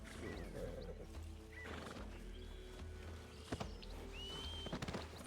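Horses whinny with rising and falling squeals while hooves clip-clop in a few quick clusters near the end, set over a steady low background hum.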